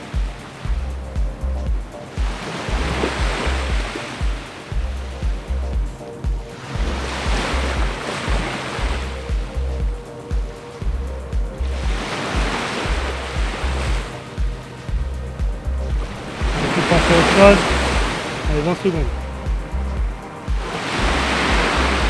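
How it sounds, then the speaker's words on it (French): Ocean surf rolls in as slow, rhythmic swells, about four broad washes of breaking waves rising and fading over steady background noise, with a short spoken phrase partway through. "je suis bercé par le bruit des vagues"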